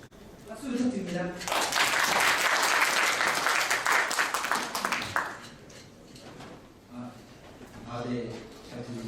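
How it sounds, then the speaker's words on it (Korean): Loud audience applause bursts up at a Korean WWF certification ceremony and workshop as a presenter is introduced, swelling for several seconds and then fading, with a speaker's voice returning on a microphone afterward. "박수 부탁드립니다."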